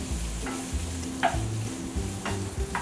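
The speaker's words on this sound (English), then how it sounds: "Using a wooden spoon, we'll be stirring from time to time." A wooden spoon scrapes and stirs chopped Spam in a frying pan, with irregular scraping strokes over a steady sizzle, close and moderately loud, no talking.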